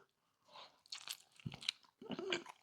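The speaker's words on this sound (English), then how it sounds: "The bread, it's totally easy to bite through, but it has a nice good chew to it." Biting and chewing a chicken sandwich on a seeded hoagie roll, close and fairly quiet: a crisp crunch of the bread, then moist chewing in several bursts with a short pause between them.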